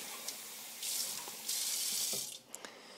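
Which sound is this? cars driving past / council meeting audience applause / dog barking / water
water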